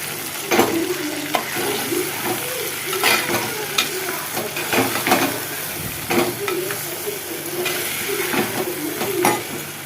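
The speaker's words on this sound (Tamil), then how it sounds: "பெரிய வெங்காயமும் தக்காளியும் சேர்த்துருவேன் ரெண்டுமே சேர்த்து ஜஸ்ட் ஒரு எண்ணெயில் ஒரு வதக்கு வதக்கி இருக்கா போதும்" Sliced large onions and tomatoes sauté in oil in a pan, a steady sizzle and crackle broken by repeated scraping stirs, close and loud throughout with no voices.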